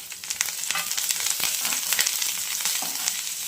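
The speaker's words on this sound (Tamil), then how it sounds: "வெங்காயம், கருவேப்பிலை, வத்தல் போட்டு தாளிச்சு" Onion, curry leaves and dried red chilies frying in hot oil for a tempering make a steady, close sizzle with crackling pops throughout, no voices.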